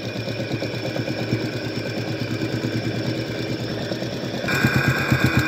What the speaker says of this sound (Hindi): देखिए दोनों तरफ सिलाई चलाना है किनारे किनारे ये सिलाई पक्का करने के लिए ताकि मजबूत हो जाए